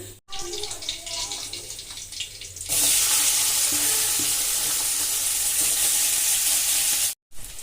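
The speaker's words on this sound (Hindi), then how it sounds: "यहाँ मेरे आलू उबलने लग रहे हैं।" Steady bubbling and hissing of potatoes boiling in a pot of water, loud and close, with a brief quieter stretch at the start.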